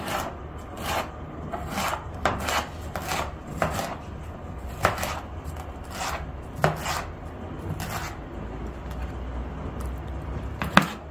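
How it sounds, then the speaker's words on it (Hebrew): A knife cutting a bell pepper into strips on a board, giving a steady series of crisp, fairly loud chops at roughly one per second, close by with no talking. "מי שרוצה יכול לחתוך את זה כמובן לקוביות או לרצועות"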